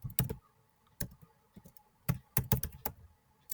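Someone types a git command on a computer keyboard: a few close, crisp key clicks in an uneven rhythm, some quick pairs and short bursts separated by pauses, with no talk.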